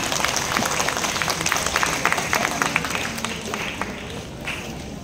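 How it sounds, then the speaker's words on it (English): Crowd applause at a Grade 6 graduation ceremony at St. Mary's College in Quezon City fills a large hall with continuous, fairly loud clapping that tapers slightly toward the end. "Let's give her a round of applause"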